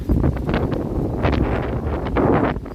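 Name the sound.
wind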